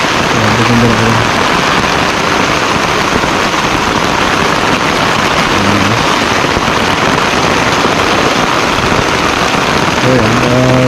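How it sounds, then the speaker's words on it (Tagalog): Steady rain hisses down outdoors, a dense constant wash of drops with faint low tones drifting underneath. "ito yung hinintay natin na ulan. Ngayon dumating."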